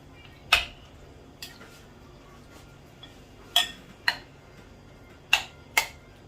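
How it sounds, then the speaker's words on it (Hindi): Beef being mixed by hand with eggs and soy sauce in a bowl gives a handful of sharp, sparse clinks and taps, spaced seconds apart over a quiet background, with no talking. "तमाम चीज़ों को अच्छी तरह बीफ में मिक्स कर दूंगा मैं"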